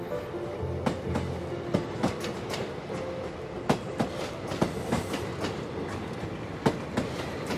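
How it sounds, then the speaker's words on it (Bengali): A train runs along the track as a sound effect in a Bengali detective audio story, with a steady rumble and a regular clickety-clack of wheels over rail joints, sharp clacks repeating every second or so at moderate volume. "ট্রেন থামল কিষানগঞ্জ জংশনে।"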